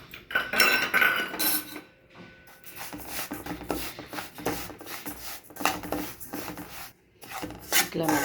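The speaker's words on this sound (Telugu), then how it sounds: "ఓమ కూడా ఇట్లనే వేయించుకోవాలండి" Ajwain (carom) seeds are dry-roasted in a pan and stirred with a spoon, giving close, repeated scraping and rustling strokes broken by short pauses.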